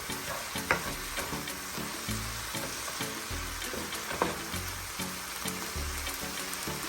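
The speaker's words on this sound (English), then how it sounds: "Now you want to add your spinach, about a cup of spinach. Stir it up a little bit." Spinach and cherry tomatoes stir in a hot pan for creamy shrimp pasta, a continuous crackling sizzle broken by soft thuds and scrapes of the utensil at an even pace.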